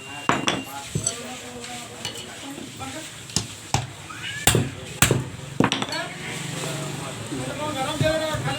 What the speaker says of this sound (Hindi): आपको घुमा घुमा कर इसे ठोक ठोक के निकाल लेना है।